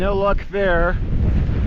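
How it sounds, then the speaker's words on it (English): Strong wind buffeting the microphone outdoors by a lake in high mountain trout country, a loud low rumble throughout as someone speaks briefly over it. "This wind is making things hard"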